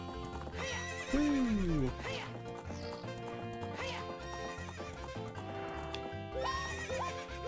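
A horse in the video game The Legend of Zelda: Ocarina of Time neighs and whinnies over galloping clip-clop hooves, set against game music, and a person briefly lets out a short exclamation.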